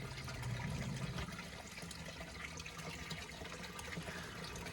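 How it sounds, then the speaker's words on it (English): A sump pump drains water from a basin, giving a faint, steady wash of moving water with a low hum near the start and soft trickling throughout. "the pump's going to kick on and the water in the basin is going to start going down"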